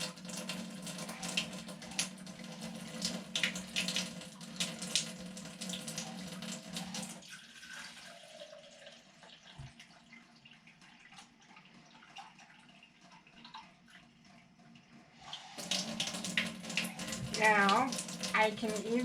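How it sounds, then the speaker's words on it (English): Water runs steadily from a smart faucet into a sink, loud and continuous at first, then quieter for a stretch before the flow grows strong again near the end. "I can either set this down and turn the water off to try not to risk spilling it"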